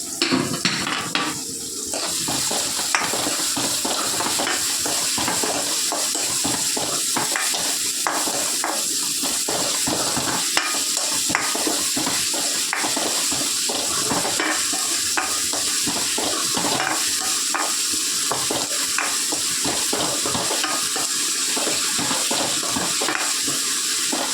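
Vegetables sautéing with salt in a pan, heard as a continuous loud close sizzle with frequent rhythmic stirring clicks and scrapes throughout, with no talking over it.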